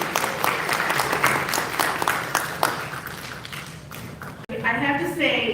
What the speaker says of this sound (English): first give yourselves a round of applause for being here on a Saturday